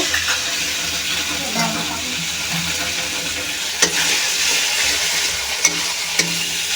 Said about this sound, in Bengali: এখন ওই কেটে রাখা টমেটোগুলো দিয়ে দেব।